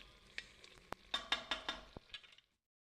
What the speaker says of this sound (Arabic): صافي دابا غادي نخليوه يتقلى.